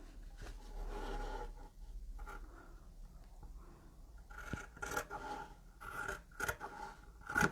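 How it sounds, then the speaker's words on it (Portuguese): Sharp scissors snipping through quilting fabric, a string of crisp, close cuts that grow more frequent and louder toward the end, with no voices. "Aí você pega aí a sua melhor tesoura, que tá cortando bem, né?"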